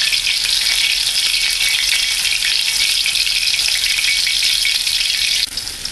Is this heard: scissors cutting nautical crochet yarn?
no